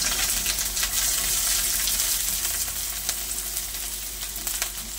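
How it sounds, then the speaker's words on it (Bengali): Carrot and capsicum frying in hot ghee and white oil for fried rice, a dense bright sizzle holding steady throughout with scattered sharp crackles and light stirring. "এবারে দিয়ে দেবো গাজর, ক্যাপসিকাম"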